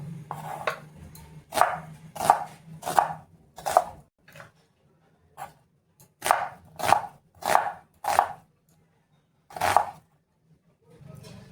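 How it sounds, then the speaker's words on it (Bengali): Onion being chopped into large pieces with a knife on a board, a series of sharp, close chops in uneven bursts with short pauses between groups. "পেঁয়াজটা একটু বড় বড় করে কেটে নেব"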